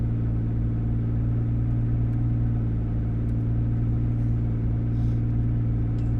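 A 2JZ-swapped Mustang sits on its launch control rev limiter, a loud, continuous, close engine drone with a steady stuttering rumble and no talking.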